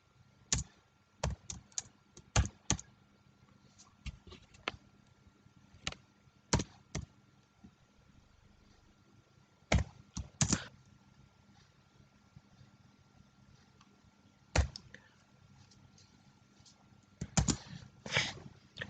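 Sparse keystrokes on a computer keyboard entering values into Python code, sharp clicks in short irregular bursts separated by pauses, close and fairly quiet.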